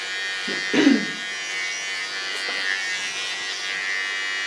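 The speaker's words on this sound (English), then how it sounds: "Take the tip of my clipper." An electric hair clipper trims hair around the sideburn during a short pixie haircut, giving a steady close buzz with a brief louder burst near the start.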